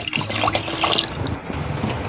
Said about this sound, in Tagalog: Ayan o, ulan yan ha.